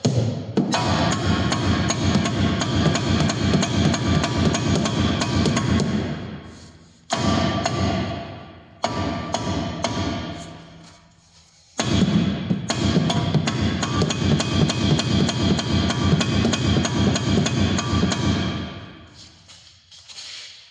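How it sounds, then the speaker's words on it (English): Rapid, heavy thuds from repeated rubber hammer blows on a stuck brake disc of a Mercedes W211 come in long dense bursts, broken by short pauses, close and loud. "it's a bit stuck on the old disc, so try and use a plastic or rubber hammer"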